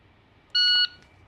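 A single sharp electronic beep from a shot timer at a shooting range, a loud steady tone lasting about a third of a second over quiet background hiss.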